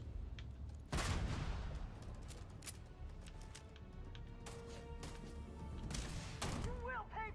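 A grenade explosion in Starfield hits with a loud thump, followed by scattered gunfire and impacts, with speech heard throughout.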